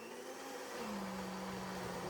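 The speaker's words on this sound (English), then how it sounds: "add all the chili paste, and continue to blend to mix them together" An electric kitchen blender whirs steadily as it mixes chili paste for sambal, a loud continuous motor drone with a slight pitch drop partway through and no voices.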